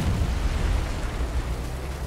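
Artillery shells in War Thunder make a dense, rumbling roar of explosions, loud and continuous, with heavy low booms running together and no distinct gaps.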